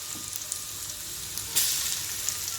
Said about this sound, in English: Make sure it is smoking hot before you include the 2 teaspoons of garlic.